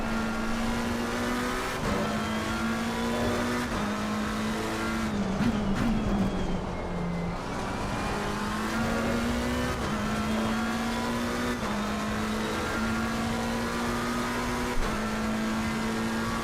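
Racing car engine in a video game drones steadily and loudly throughout, its pitch holding level with small shifts at each gear change and a brief dip and wobble midway, with no talk over it.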